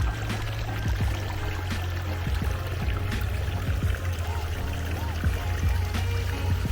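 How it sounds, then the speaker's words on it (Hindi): A small waterfall on a mountainside in Uzbekistan, fed by melting snow, giving a steady close rush of flowing, splashing water with faint trickling detail. "ये वो झरना, जो छोटे छोटे झरने पहाड़ से निकलते हैं"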